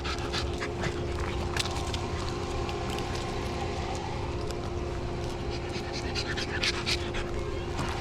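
Dogs panting close by in the morning, quick rhythmic breathy huffs running continuously over a low background rumble, with faint voices now and then.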